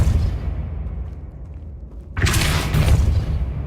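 Depulso spell cast in Hogwarts Legacy: after a low rumbling lull, a sudden loud blast bursts in with a broad whooshing burst that lingers as a booming tail.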